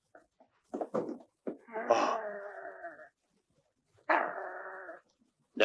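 A dog whines and howls in drawn-out, wavering cries, two long wails with short yelps between, close by and without other sounds.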